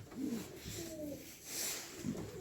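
Racing pigeons coo nearby in a loft in low, throaty, rolling calls, several overlapping coos repeating across a few seconds.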